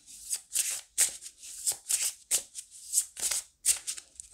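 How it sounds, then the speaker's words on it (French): Pocket oracle cards being shuffled by hand: a rapid, close series of about a dozen papery riffles and slaps in an uneven rhythm, crisp and fairly quiet, with no talk. "pendant que je brasse les cartes"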